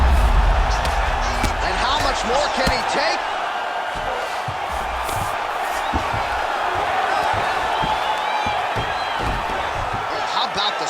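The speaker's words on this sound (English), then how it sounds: "crowd just loving it" A virtual arena crowd cheers and roars continuously during a UFC 5 fight between Movsar Evloev and Charles Rosa, a dense wash of noise under a commentator's talk.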